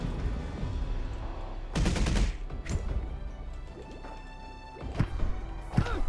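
An enemy in the video game Dreamscaper fires a burst of four bullets amid combat. Sharp, punchy shots and impacts come in clustered bursts over a low game soundscape, with some louder cracks near the end.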